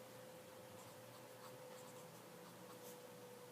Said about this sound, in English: I'm going to write it again